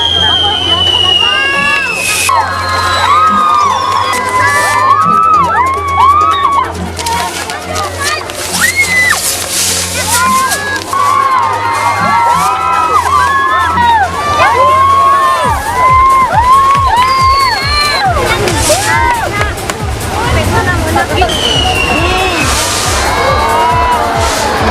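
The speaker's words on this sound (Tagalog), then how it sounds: "Sa kada lupok sang fireworks, mabatian gid ang sinditan kag hinugyaw sa mga tawo." A fireworks display at Villa Arevalo brings a crowd cheering and shouting. Whistling rockets and crackling bursts go off continuously, loud and close, over steady crowd noise and babble for the whole stretch.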